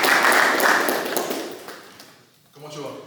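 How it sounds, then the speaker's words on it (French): An audience applauds a candidate with a dense burst of clapping that swells and then fades out over about two seconds, followed by a voice speaking. "Applaudissez-le s'il vous plaît"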